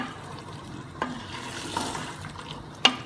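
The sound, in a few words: boiled red kidney beans frying in masala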